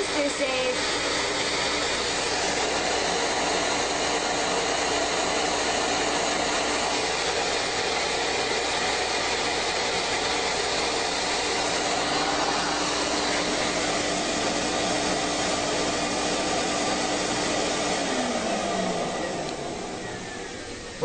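A household vacuum cleaner runs with a continuous, loud whirring drone for about twenty seconds before its motor winds down at the end.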